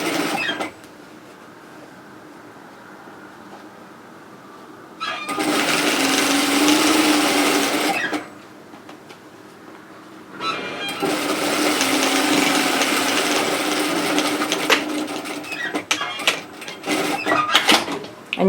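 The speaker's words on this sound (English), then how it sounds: "we're going to sew with a 1 centimetre, which is a 3/8 of an inch seam allowance" Sewing machine stitching a straight seam with a 1 cm seam allowance on a lined reusable shopping tote bag, running in two loud sustained bursts separated by a quieter pause.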